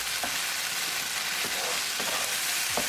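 Vegetables for pav bhaji sizzle steadily in a pan, a continuous loud fry with a few soft stirring scrapes breaking through at intervals.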